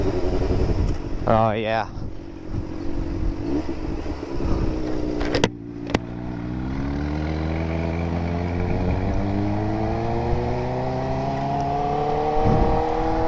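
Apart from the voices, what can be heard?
loud motorcycle with ported head and exhaust, truck behind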